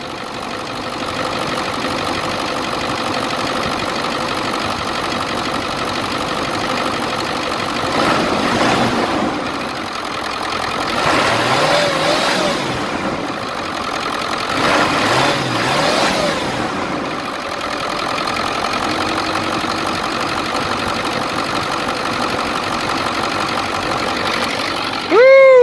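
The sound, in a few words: Ford 7.3 Excursion diesel engine idling after belt replacement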